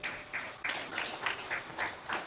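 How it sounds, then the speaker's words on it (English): An audience claps at the launch of a business chapter, BBB Jnanabharathi Ullal Chapter in Bengaluru, honoring its leadership. The applause comes in rhythmic bursts about every third of a second, steady and moderately loud throughout. "a huge round of applause to all the leadership"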